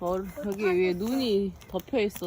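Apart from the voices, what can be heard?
No everyday noises stand out.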